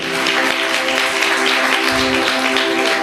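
A church congregation applauds loudly, with dense, continuous clapping spread across the room over a steady sustained musical tone.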